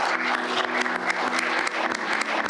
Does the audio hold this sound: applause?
yes